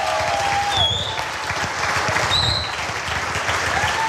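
Town hall audience at an economic justice event applauding, a dense sustained wash of many hands clapping with scattered cheers and whistles, loud and continuous.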